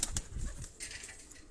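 A released pigeon flaps its wings in a few brief, close bursts of rustling wingbeats, with faint bird sounds around.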